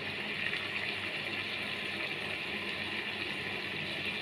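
Water poured steadily into a pot of chicken curry on the stove, a constant hissing, bubbling gush that stays even and moderately close for the whole stretch, with no talk over it.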